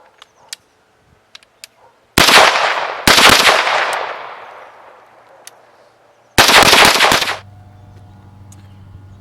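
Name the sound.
rifle firing a 10-round magazine with Sabre trigger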